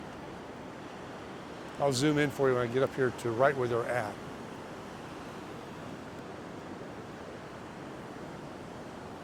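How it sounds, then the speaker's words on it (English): Ocean surf rolls in a continuous broad wash at Oceanside Pier in California, steady and moderately loud, while someone speaks briefly over it partway through. "Waves are a lot bigger when you're down there."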